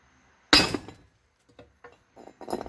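A sharp hard tap rings out as the wooden end of a hammer strikes a piston during a 4L70E transmission build, followed by a few faint knocks and one more clattering strike near the end.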